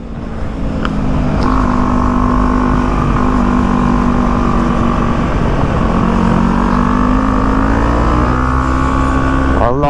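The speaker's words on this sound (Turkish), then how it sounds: "egzoz yine konuşuyor" KTM Duke 250 motorcycle exhaust holding a loud, steady, buzzing drone with slight pitch shifts as revs rise and fall, recorded close during a ride with wind noise and no talking.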